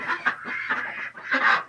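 Ancona and Pekin ducks in a pen, giving loud, close, raspy quacks in a short burst of several calls with no voices.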